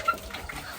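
Brief clucking from chickens, fairly quiet against a soft outdoor background.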